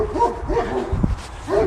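Big dogs bark and yelp close by on a walk near Joseph Priestley's birthplace by Oakwell Country Park, several quick overlapping barks with a whimpering edge, loud and near.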